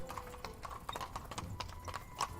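Horse hooves clip-clop steadily as a caravan arrives in the Dwarf Fortress video game, a quick repeating rhythm of hoofbeats at moderate level with a faint occasional whinny.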